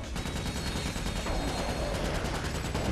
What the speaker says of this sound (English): Just keep on shooting people.